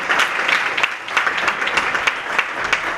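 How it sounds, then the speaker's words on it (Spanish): An audience at a Legado Quijote gathering applauds, many hands clapping in a brisk, steady patter, loud and close, continuing evenly throughout with no speech over it. "Así que un aplauso para Roberto."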